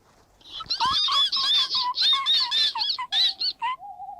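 A human voice imitates mice, squeaking as high as it can in a rapid run of thin, chirping squeals with short gaps, loud and close, ending on a lower sustained note.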